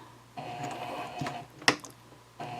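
A home sewing machine runs a few short bursts of forward stitching along the top edge of a small fabric key fob coin pouch, with a sharp click from the machine partway through.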